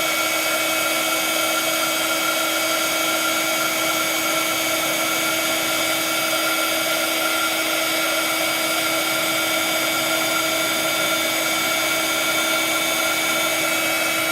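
A heat tool blows and whines at a constant pitch while melting clear embossing powder on black cardstock from underneath, loud and steady throughout with no talk.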